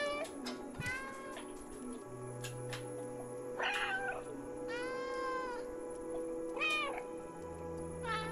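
A cat in the video game Stray meows several times, separate drawn-out calls over a low steady game soundscape, with a brief rustle near the start.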